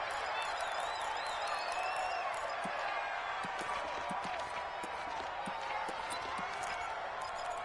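Stadium crowd in an American football video game with the Colts, a steady distant roar and murmur with scattered claps beneath continuous commentary.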